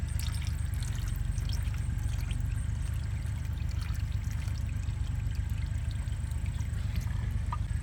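Engine oil from a 2016 Toyota Corolla pours in a steady stream into a drain pan, a continuous low trickling rush that holds evenly throughout with no talk.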